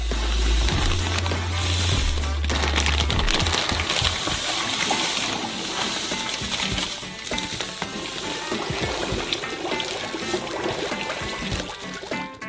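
Sugar poured into hot melted butter in a pan on a stove sets off a loud, steady sizzle and frying hiss, with a gushing pour at first and then continuous crackling.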